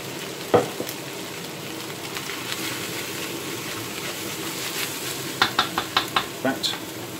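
Mixed vegetables sizzle and fry in a hot pan for Yuk Sung, a steady crackle broken by a sharp knock early on and a run of quick clinks and scrapes near the end.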